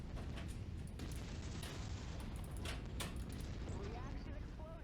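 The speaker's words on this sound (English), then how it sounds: "Reaction explosion." A mech reactor explodes in MechWarrior 5: Mercenaries, a dense rumbling blast with booming hits amid continuous battle noise, while radio voices talk over it.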